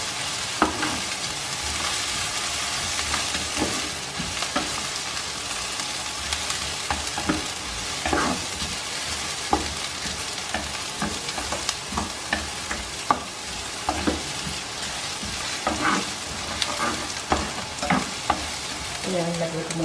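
Seafood kare-kare sauce base sautéing in a pan, a steady close sizzle with repeated scraping stirs throughout, no voices.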